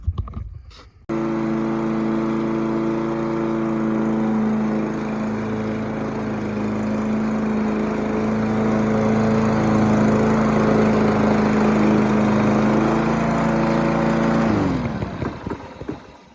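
A Toro push lawn mower engine starts after a brief pull and runs at a steady, loud drone for about thirteen seconds, then cuts off and sputters to a stop.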